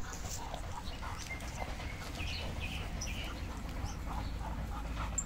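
Dobermann dogs romping and panting outdoors with soft whimpers and occasional yelps, over a constant low rumble of wind or distant noise.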